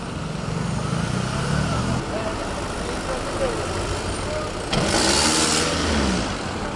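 Heavy festive New Year traffic of cars and other vehicles in the city of Shkodër makes a steady engine and tyre rumble throughout, with a louder surge near the end and a voice talking over it.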